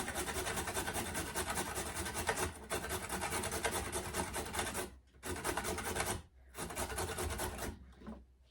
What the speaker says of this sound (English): I think we'll go ahead and grate this whole thing.